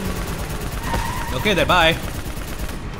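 A mounted turret in Call of Duty: Black Ops III fires a sustained burst of heavy automatic gunfire with loud action behind it, while someone talks over it.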